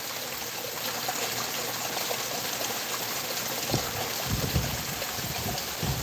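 Water splashing steadily into a garden pond, a continuous soft gush and trickle with a few slightly louder splashes near the end, no voices.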